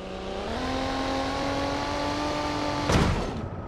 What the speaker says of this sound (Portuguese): Estourou o motor, galera!